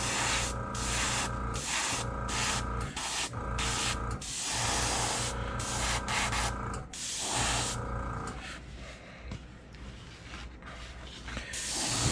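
Close airbrush hissing as it sprays deep orange paint onto a crankbait fishing lure, in repeated bursts of steady spray separated by brief pauses, with no talking.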